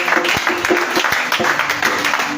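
A church congregation applauding the Lord during a sermon, a loud burst of rapid, dense clapping that runs steadily throughout the short moment.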